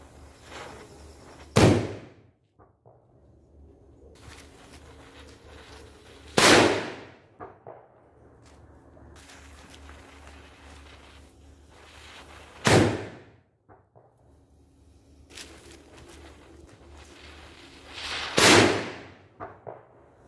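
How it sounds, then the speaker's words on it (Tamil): Jeru Fireworks Classic Bomb Green firecrackers exploding outdoors, four sharp, loud blasts spaced several seconds apart, each with a short echoing tail, over a low background hum. "ஜெரு ஃபயர்வொர்க்ஸுடைய இந்த கிளாசிக் பாம் அன்பாக்சிங் வந்து பார்க்கலாம்"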